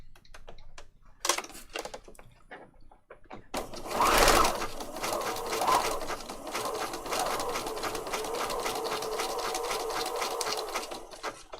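A sewing machine runs a zigzag stitch through paper patchwork, chattering in a rapid, even rhythm after a few short starts, loud and close with no talk.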